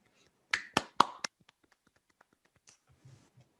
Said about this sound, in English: Everyone, please give a big round of applause for Doug.